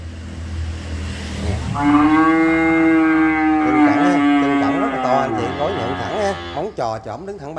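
Cattle for sale at a Vietnamese livestock market give a long, loud, close moo that rises and wavers over several seconds, with background chatter around it.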